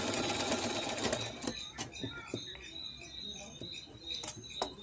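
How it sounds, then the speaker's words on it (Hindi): Sewing machine stitching a katori blouse, a faint, uneven run of quick mechanical patter with a few sharp clicks, heard from close by at low volume. "उसके ऊपर सिलाई चलाते हैं हल्के नाखून में स्क्रैच करके"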